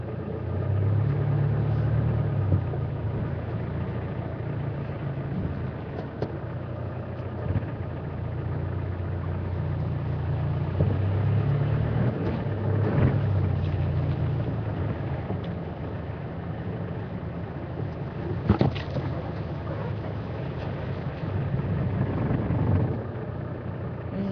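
A safari vehicle on an early-morning game drive rolls slowly along a track, its engine a steady low rumble throughout with a few soft bumps and knocks.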